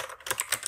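Quick keystrokes on a computer keyboard while a name is typed in: a short run of several light clicks in close succession, heard alone.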